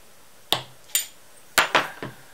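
Nut being loosened during disassembly of an Emco Unimat SL lathe under restoration: four or five short, sharp metallic clinks and taps at irregular spacing, close and clear against a quiet background.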